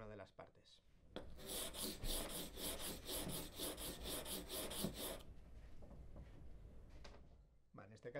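Chip carving knife blade sharpened on sandpaper with steady back-and-forth strokes, a rhythmic rasping scrape repeating roughly twice per second, close and fairly loud, then fading into softer rubbing.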